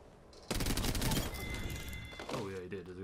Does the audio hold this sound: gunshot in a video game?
yes